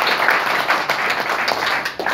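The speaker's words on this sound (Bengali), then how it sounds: "আপনারা প্রত্যেকে আপনাদের জন্য একটা হাততালি দেন।" An audience at a motivational business talk claps together in dense, sustained applause for a couple of seconds, loud and close.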